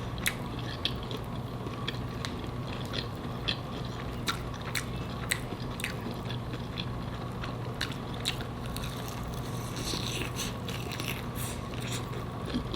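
Someone chews crunchy, sweet and sour, spicy homemade sticky ribs close to the mic, a continuous run of crisp bites and crunches over a low background hum, with no talking.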